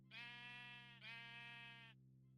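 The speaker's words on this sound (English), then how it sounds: "I'm talking to sheep in Minecraft." Two drawn-out, wavering sheep bleats from Minecraft, close and clear, the second following right after the first, over a steady low background hum.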